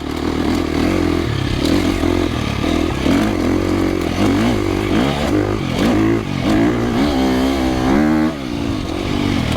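A 2025 KTM 350XCF dirt bike engine revs up and down while being ridden, loud and close, with rising and falling pitch through gear changes and rattling clatter from the chassis.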